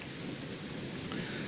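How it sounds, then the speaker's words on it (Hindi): Steady rain pours down with the low rumble of thunder beneath it, a dense, continuous wash of hiss and roll during a break in hot weather, with no talking. "बारिश हो रही है आज अल्हम्दुलिल्लाह"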